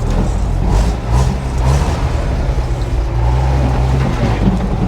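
A 1957 REO dump truck backing up without mirrors: its engine gives a loud, close, steady diesel rumble with slight surging throughout, and no talking.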